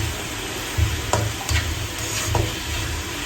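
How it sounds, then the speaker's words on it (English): Chicken handi gets stirred after salt goes in, a steady loud sizzle in the pot broken by several soft scrapes and knocks of the spoon. "And just give it a good stir."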